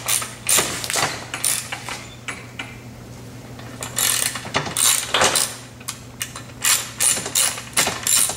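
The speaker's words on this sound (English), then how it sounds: "Now we'll need the 14 millimeter wrench and socket." A 14 mm wrench and socket ratchet a screw into a cart wheel assembly, giving bursts of rapid close clicking that stop and start in uneven strokes.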